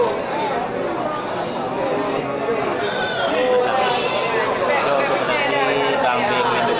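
Female goats and sheep bleat repeatedly at a busy livestock market in Bireuen, their cries mixed into a crowd's chatter, with people talking nearby throughout.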